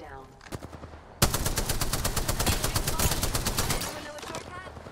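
Rapid automatic gunfire rattles in Apex Legends, a few scattered shots first, then a loud sustained burst of evenly spaced rounds for nearly three seconds before tapering off, with faint speech beneath.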